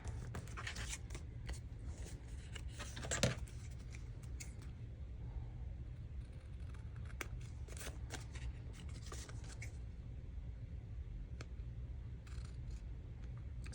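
Scissors trim a paper tag for a Christmas journal page, making faint, close snips and paper rustles scattered across a quiet, steady background hum.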